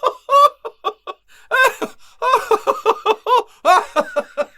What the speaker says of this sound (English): That was my other duck.